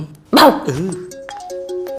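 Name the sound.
man imitating an angry puppy barking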